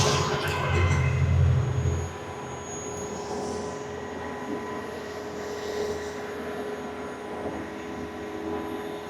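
A GO Transit commuter train rumbles past outdoors near Toronto with a broad, steady roar, heavier at first and then settling into a continuous, moderately distant drone.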